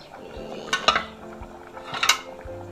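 A lid clanks onto a pot of pumpkin and pork curry, two distinct metallic clinks about a second apart, close and moderately loud over quiet kitchen background.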